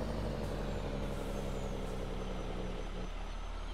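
A truck drives in Farming Simulator 22, its engine a steady low drone with a hiss like an air brake partway through, continuous and fairly loud with no voices.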